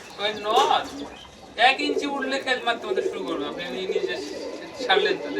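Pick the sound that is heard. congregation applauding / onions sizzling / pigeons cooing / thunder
pigeons cooing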